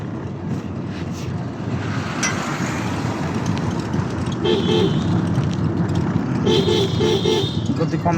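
Short honks of a car horn sound twice in moving road traffic over a constant engine and road rumble, with a person talking nearby.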